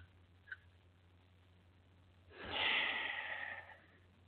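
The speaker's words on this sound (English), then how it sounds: "this dog smells like dog food. And it's breathing in my face." A dog snorts once faintly close by, then breathes in a loud, raspy huff right at the microphone for about a second before falling quiet again.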